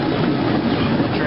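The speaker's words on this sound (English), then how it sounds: "Alright, we're all on the train." A train runs along its rails with a loud, steady rumble and rattle that fills the short moment.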